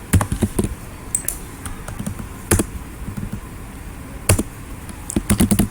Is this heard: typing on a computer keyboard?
yes